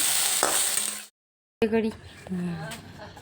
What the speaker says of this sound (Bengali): আর এখন আমি ভাজি হচ্ছে ক্যাপসিকাম